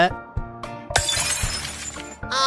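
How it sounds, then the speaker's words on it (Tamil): Glass shatters in a sudden loud crash that rings out briefly amid voices and tonal background sound. "கண்ணாடி ஒடிச்சுட்டான் பாரு"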